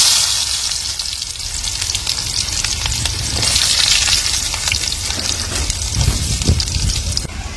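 Mustard seeds and red onions frying in hot oil for a village-style snail fry give a loud, steady, close sizzle that holds without a break, with no voices.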